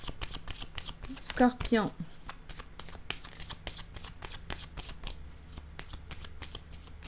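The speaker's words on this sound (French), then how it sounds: "Je vais déposer une autre carte ici." Tarot cards handled, shuffled and laid down during a reading, with quick papery flicks and soft taps close by and a voice speaking briefly.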